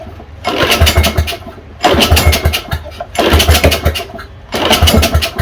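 A Yard Machine lawn mower engine with a choke problem starts and runs in repeated loud, close bursts: sputtering, rumbling engine noise that surges and drops off, then catches again, about four times.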